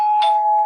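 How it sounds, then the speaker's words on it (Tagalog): A single bright electronic doorbell chime rings loud and clear, sustained tone with a brief overtone burst near the start. "Doorbell."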